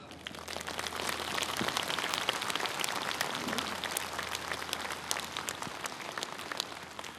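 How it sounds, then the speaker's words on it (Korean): A large outdoor gathering of Buddhist monks and attendees at a nationwide monks' rally bursts into vigorous, sustained applause, a dense crackling wash of many hands that stays even and loud throughout. "오늘 참석하신 대중들의 힘찬 박수와 함께 시작하도록 하겠습니다."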